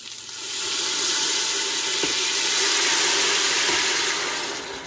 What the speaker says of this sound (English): A lot of steam because that was, that ghee I put in there was a little bit boily.